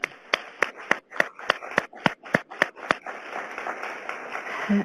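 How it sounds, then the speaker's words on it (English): At a youth development conference, a run of sharp, evenly spaced loud claps stands out before settling into a softer, continuous murmur of crowd applause. "let's give them another round of applause"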